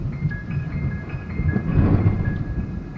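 Thunder from a lightning strike during a tornado-producing storm, a deep sustained rumble that swells in the middle, loud and close with rain noise underneath and a faint steady tone, no speech.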